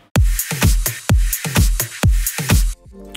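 A progressive house drum loop from a sample pack plays loud and close: a four-on-the-floor kick with claps, toms and closed hi-hats ticking between beats, ending in a brief tonal tail.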